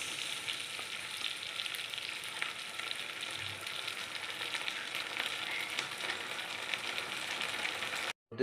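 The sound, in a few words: egg and cornflour mixture poured into pan, sizzling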